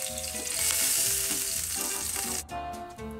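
Browned meatballs sizzle and crackle as they are shifted into a pan of sauce for pasta, a steady close frying hiss with tonal clatter of a utensil and pan running throughout, briefly dipping near the end.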